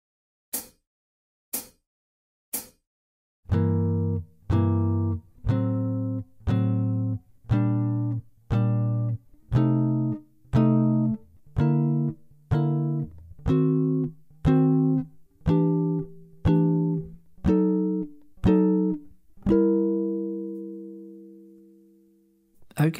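Jazz guitar plays a steady walk of three-note chord voicings, about sixteen evenly spaced strummed chords at a moderate tempo, each ringing briefly, after three short clicks, ending on a longer sustained chord; no talking.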